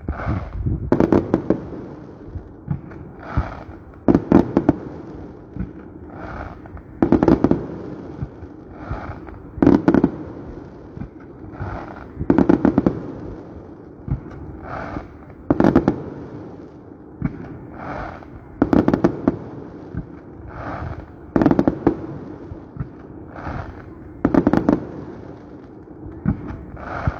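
Fourth of July fireworks exploding, with about a dozen loud booming bursts spaced every few seconds in an irregular rhythm, some trailing crackles between them, heard from moderate distance outdoors.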